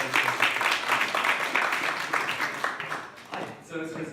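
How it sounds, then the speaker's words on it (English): Warm audience applause greeting a guest artist before his final presentation at Wageningen University, a dense steady clapping that fills the room for several seconds and then thins out. "I give you the floor and give him a warm applause"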